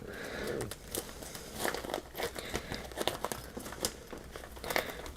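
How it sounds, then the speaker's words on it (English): Green paper scraps are handled and cut into leaf shapes, giving close, intermittent crinkling and rustling with sharp snips in an irregular rhythm and no talk. "let me get my little green scraps and let me cut out some green leaves"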